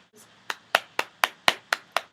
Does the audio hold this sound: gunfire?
no